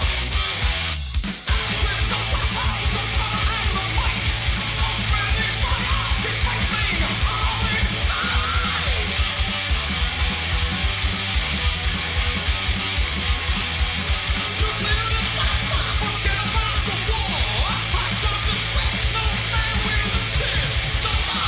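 A speed metal song played loud and dense throughout, with pounding drums, screeching guitars and high screeching vocals, and no talking over it.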